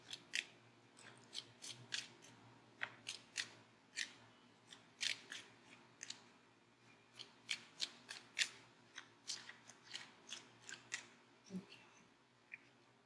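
Tarot cards being shuffled by hand: faint, crisp, irregular snaps and riffles, one after another in a loose rhythm, close but quiet against a low background hum.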